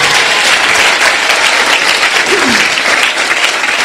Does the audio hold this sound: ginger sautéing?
no